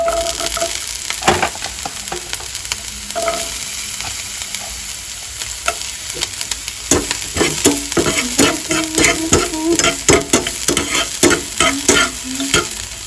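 Capsicum frying in a pan on a gas stove for homemade pizza, a steady sizzle broken by frequent sharp scraping and stirring clicks, close and alone without voices.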